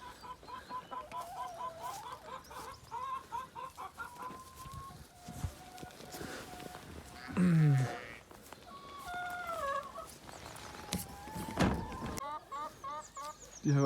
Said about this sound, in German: Die weißen Hühner mögen es hier im Busch auf jeden Fall.